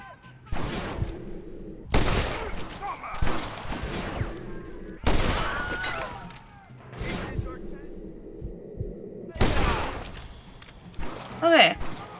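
Bursts of gunfire in Red Dead Redemption, several separate loud volleys spaced a second or two apart, each ringing out briefly before the next.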